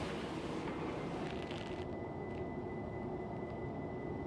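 Steady rumbling drone of a London Underground train in motion, a continuous mechanical roar with a faint high whine running through it.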